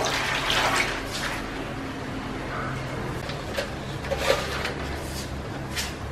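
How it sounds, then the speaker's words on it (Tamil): Tamarind water pours into a pot of cooking vegetables for Tirunelveli idi sambar, a steady splashing, bubbling wash of liquid that lasts several seconds with faint clinks throughout. "நம்ம அந்த புளி கரைசல் வந்து கரைச்சி வச்சுருப்போம் இல்லையா, அதையும் நம்ம வந்து இது கூட வந்து ஆட் பண்ணிடணும்"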